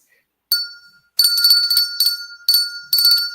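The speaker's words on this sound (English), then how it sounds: "I'm going to give you the bell." A desk bell rings five times, with a first single strike followed by four rapid bright dings spaced about half a second apart, close and loud, with no talking.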